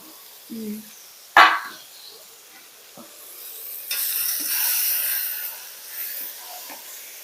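Tomatoes added to a pan of sautéed ingredients start frying. A sharp clatter is followed by quiet stirring, then a louder, steady sizzling hiss builds and holds.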